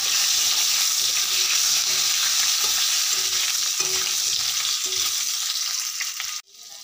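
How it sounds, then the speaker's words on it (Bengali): Boiled potatoes frying in hot oil in a pan give a loud, steady sizzle with occasional stirring scrapes, continuous and close, fading out abruptly at the end. "আলুগুলি ভাজা হয়ে গেছে, খুব সুন্দর করে লাল করে ভেজে নিয়েছি।"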